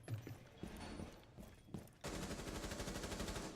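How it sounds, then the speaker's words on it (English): Gunfire in a Rainbow Six Siege varsity esports match, heard as distant, scattered shots followed by a sudden dense burst of rapid fire that stays loud and continuous. "Hearing some gunfire."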